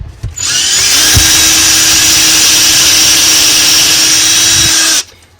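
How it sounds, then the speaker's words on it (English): A power drill whirs steadily at high speed for about five seconds, pre-drilling a screw hole into a stud inside a Jayco Jay Flight travel trailer, loud and close, then stops abruptly. "I'm going to go ahead and pre-drill that"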